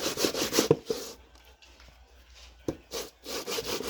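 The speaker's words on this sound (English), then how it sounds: "this is how you gonna grate the cassava" Cassava being grated by hand for a Filipino cassava cake, heard as bursts of rough rasping strokes close by, a quick run at the start and again near the end with a quieter gap between.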